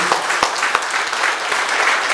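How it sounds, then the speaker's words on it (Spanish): Steady applause from an audience at a ceremony recognising older adults, with dense, even clapping that continues throughout at a moderate distance. "Brindemos un fuerte aplauso"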